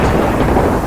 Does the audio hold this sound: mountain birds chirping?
no